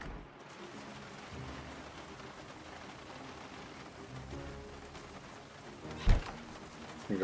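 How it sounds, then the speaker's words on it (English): Steady rain patters on surfaces in a survival video game, a soft even hiss across the whole stretch, with one brief louder knock near the end. "since it is raining."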